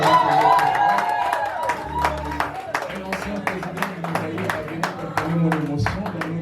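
Wedding guests at a Congolese customary marriage clap and cheer, a crowd applauding in rhythm beneath a voice talking over a steady musical drone.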